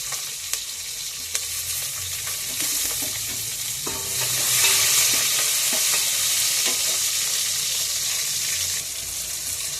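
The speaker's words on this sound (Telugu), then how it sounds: "చూడండి ఆనియన్స్ వేసాను, ఇది చూడండి అల్లం వెల్లుల్లి పేస్ట్ కూడా వేస్తున్నాను. ఇవన్నీ కలిపి మనకి బాగా వేగాలండి" Onions and ginger garlic paste sizzle loudly in a pan for chicken biryani, a steady close frying hiss broken by scattered clicks and scrapes of stirring, swelling slightly midway, with no talking.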